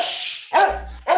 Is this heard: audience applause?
no